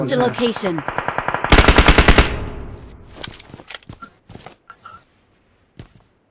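Rapid bursts of automatic gunfire from a shooting video game, a loud sustained volley followed by scattered single shots and short bursts fading to silence, with brief talk at the start.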